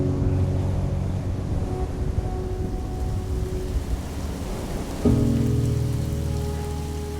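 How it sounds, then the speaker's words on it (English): Steady rain patters on surfaces outdoors as dusk sets in, a dense, even hiss that continues throughout, with a low rumble and a louder shift partway through. "it starts to rain and getting dark"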